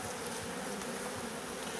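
Honeybees drone in a hive colony that has lost its queen, a dense, even buzz of many insects holding at the same level throughout, with no voices over it.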